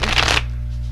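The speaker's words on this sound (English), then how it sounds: "I have this thing where I shuffle the deck 7 times." A deck of cards gets a quick riffle shuffle, a brief crisp burst of close flapping that stops abruptly.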